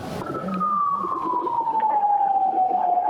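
A black ambulance carrying a body from an airport sounds a loud wailing siren in one long tone that slowly falls in pitch, with a faint vehicle rumble beneath and no speech.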